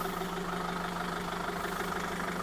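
A diesel tow truck engine runs at a steady close idle, a continuous low rumble with a fine knocking pulse that holds even throughout, no talking.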